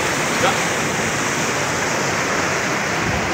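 Floodwater of the Godavari river, swollen by heavy rain, rushes in a loud, steady, unbroken roar that fills the whole stretch, with no pauses and no audible talk.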